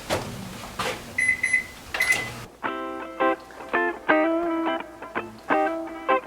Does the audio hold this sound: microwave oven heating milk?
yes